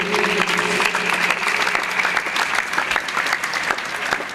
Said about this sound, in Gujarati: એક તાળીના નાદથી આ બધાને આપણે વધાવીએ